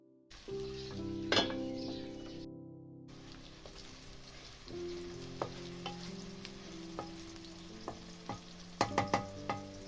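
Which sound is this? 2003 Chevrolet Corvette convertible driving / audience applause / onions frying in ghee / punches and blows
onions frying in ghee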